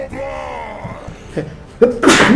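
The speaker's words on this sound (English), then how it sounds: "I had a little sneeze" A single sharp sneeze bursts out near the end, after a stretch of steady engine hum and faint background noise, over Total War: Warhammer gameplay.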